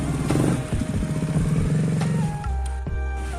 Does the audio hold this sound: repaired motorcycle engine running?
yes